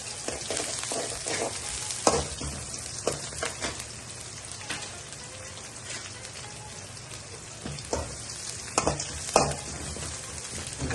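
Sliced onion fries in a pan for butter chicken, a dense close sizzle and crackle with repeated scraping stirs and sharp spoon taps scattered throughout, no talking.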